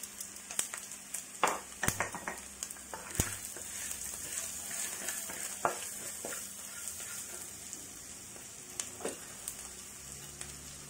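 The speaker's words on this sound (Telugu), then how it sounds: "ఇలా ఉల్లిపాయ ముక్కలు బాగా నూనెలో బాగా వేగాలండి" Onion pieces fry in hot oil with a steady broadband sizzle for a mushroom curry, broken by sharp utensil taps and stirring scrapes in the first few seconds and again later; close and continuous, no voices.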